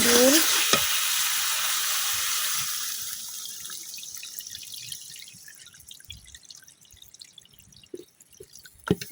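Chopped tomato fries in a pan for a Bengali fish curry with home-grown eggplant. A loud sizzle fades over a few seconds into quieter scraping and clicks as it is stirred.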